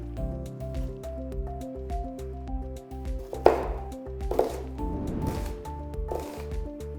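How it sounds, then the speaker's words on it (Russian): Knife chopping onion into half rings on a board, a few soft close cuts and taps heard over steady background music. "я нарежу лук полукольцами"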